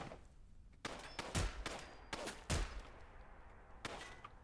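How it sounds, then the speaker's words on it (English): Gunfire in the video game Fallout London: several sharp shots spread irregularly across the stretch, with two heavier booming reports, fairly close and loud against a quiet background. "These guns just don't shoot straight."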